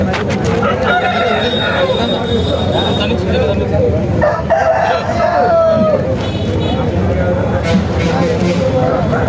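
A rooster crows amid a busy outdoor country-chicken market, its calls partly buried under people talking nearby.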